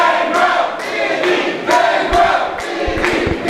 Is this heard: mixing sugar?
no